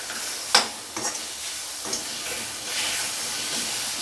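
Chopped tomato and green chilies stirred into frying ingredients in a pan, a steady sizzle and hiss with a few sharp spatula scrapes and taps early on, no talking.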